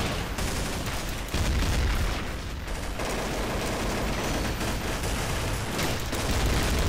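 Gunfire in Counter Strike Source during a gun game match comes as a dense, continuous rattle of shots and booms, loud and close, with no speech over it.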